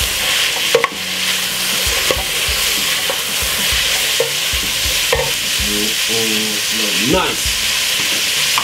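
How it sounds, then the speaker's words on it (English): Cabbage and tomato stir-fried in a pan in a Jamaican home kitchen, with a steady loud sizzle and repeated scraping stirs, plus a brief spoken word. "Tomato. Give that quick stir."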